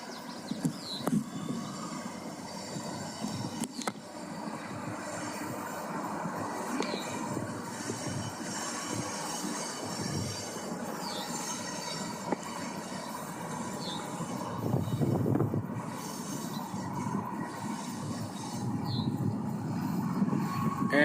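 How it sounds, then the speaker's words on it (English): A NIPSCO freight train rolls past at moderate distance, a sustained rumble of rail cars with clanks, rattles and occasional wheel squeals rising and falling, growing slightly louder toward the end; no talking. "And that's a NIPSCO train too."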